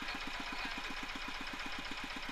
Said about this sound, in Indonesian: mesin urip mlaku